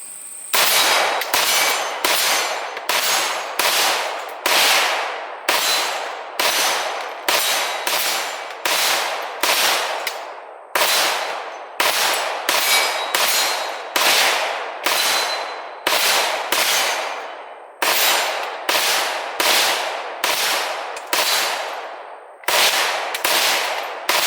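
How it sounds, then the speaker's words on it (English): A KS47/AR47 rifle chambered in 7.62x39 fires dozens of rounds at a steady semi-automatic pace, each loud, sharp crack trailing a ringing echo, with short pauses between strings of shots and no talk. "let's run 40 rounds normal fire and see how it likes to eat"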